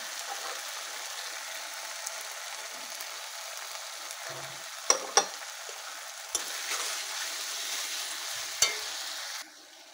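Powdered spices sizzle softly in hot oil as a spoon scrapes and stirs the pan, with a few sharp clinks against the metal over a quiet, steady frying hiss.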